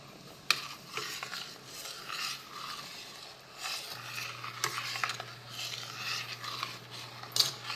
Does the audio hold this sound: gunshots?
no